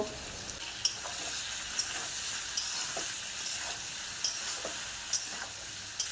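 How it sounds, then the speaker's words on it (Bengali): Bitter gourd and potato curry stir-fried in a pan gives a steady sizzle with irregular scrapes and knocks of the spatula, a few sharper clinks standing out every second or so. "বেশ কিছুক্ষণ ধরে সবজিকে ঢেকে দিয়েছি এবার কষে নেব"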